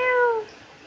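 A hungry black cat gives one close, clear meow that slides downward in pitch and fades out after about half a second.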